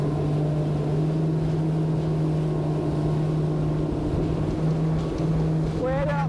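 A Schaefer V33 motorboat runs at sea with a steady, loud outboard drone and constant wash of water, the tone shifting slightly as it turns, with a brief rising whine near the end.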